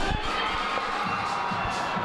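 Fans cheer loudly in a basketball gym before Kalamazoo plays at Chicago, a dense, steady wall of crowd noise with shouts rising and falling throughout.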